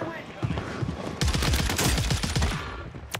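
Gunfire in a battle royale video game, with rapid bursts of shots, loud and close, firing steadily for a couple of seconds under someone talking.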